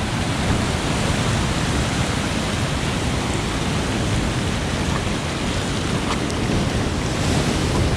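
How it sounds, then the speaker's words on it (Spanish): Ocean waves break on a fishing shore in a continuous loud roar of surf, mixed with gusting wind buffeting the microphone. "cuidado con las olas, cuidado con las olas"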